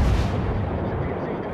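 Warship gunfire in World of Warships: a heavy booming salvo opening the moment, then a rumbling decay that fades away, with faint talk beneath.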